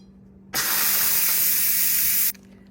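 Steam bursts from a pressure cooker's release valve, holding cooked spaghetti and meatballs, as a loud, close, steady hiss lasting under two seconds before stopping abruptly, with no talking.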